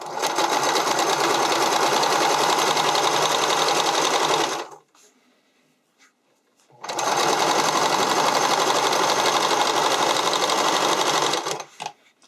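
Sewing machine stitching elastic onto a neckline runs in two long, loud, steady whirring stretches, close by, with a near-silent pause between them.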